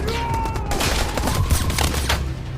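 A rapid burst of gunfire rings out during a film shootout inside a room, with dense overlapping shots and sharp cracks over a loud rumbling background.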